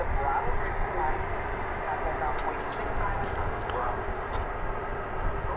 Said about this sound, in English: ABX Air going to Cincinnati. This is a 767.